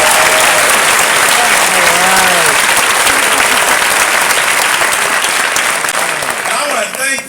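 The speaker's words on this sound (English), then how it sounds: "I'd like you to give another round of applause to these fantastic graduates" A large audience claps loudly and continuously for graduates, dense applause with a voice speaking over it before the clapping thins near the end.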